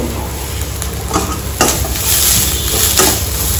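Vegetables frying in a little oil for oats upma, a loud continuous sizzle with spatula stirring and occasional pan scrapes, close up and without talk.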